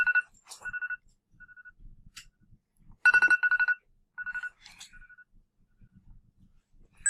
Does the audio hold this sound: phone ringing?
yes